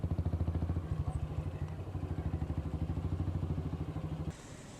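Royal Enfield Bullet motorcycle engine producing its distinctive low, rhythmic thumping beat, a steady pulsing chug at close range that holds for several seconds before fading slightly.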